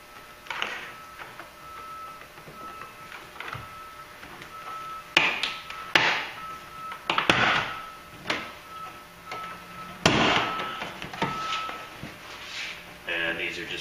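A trim tool pries plastic push fasteners from the rear liftgate of a 2004 GMC Yukon XL, producing scattered close clicks, taps and sharp pops with handling noise, mixed with speech.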